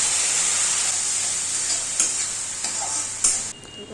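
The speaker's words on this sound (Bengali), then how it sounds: "পেঁয়াজটা অনেকটা ভাজা ভাজা হলে হলুদ জিরে কাশ্মীরি লঙ্কার গুঁড়োর একটা পেস্ট বানিয়ে কড়াইয়ের মধ্যে ঢেলে দিলাম" Onion with a paste of turmeric, cumin and Kashmiri chilli powder sizzles in a kadai, giving a continuous close frying hiss broken by a few sharp stirring scrapes and clicks near the end.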